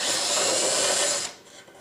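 Power tool driving screws out of an RV furnace blower assembly, a close, loud high-pitched whir lasting just over a second before stopping abruptly, followed by faint handling noise.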